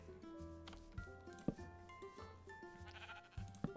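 Sheep bleating in the video game Minecraft, black sheep nearby, a few bleats alongside soft clicks and steps over quiet background music.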